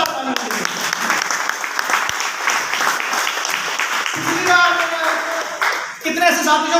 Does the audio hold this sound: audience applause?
yes